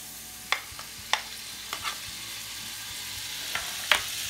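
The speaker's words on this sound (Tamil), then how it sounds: "பட்டர் போட்டு இது மெல்ட் ஆகட்டும்." Butter melting in a pan for chicken fried rice gives a faint, soft sizzle with a handful of sharp, scattered crackles and pops spaced irregularly across a quiet background.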